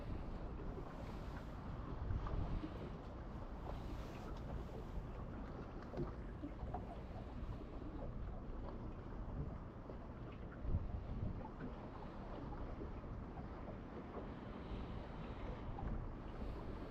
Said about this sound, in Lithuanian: Pradėjo vėjas kilti po biškį.